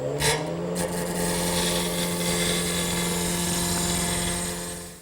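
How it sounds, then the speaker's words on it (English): A gouge rounds over a wood blank on a spinning lathe, giving a steady, continuous cutting rasp over the motor's drone for about five seconds, loud and close with no speech. "First thing I want to do is round over this blank with my gouge."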